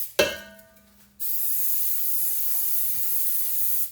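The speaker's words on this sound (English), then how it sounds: "make sure you spray the edges at the top very well as well" A click, then a steady, bright aerosol hiss of cooking spray coating a bundt cake pan, close and continuous for several seconds with no talking.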